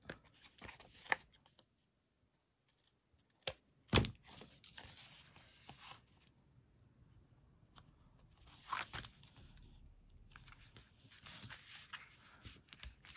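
Scissors cutting material for a small 3D craft polaroid box, a few sharp close snips and crunchy rustles separated by quiet gaps, with no talking.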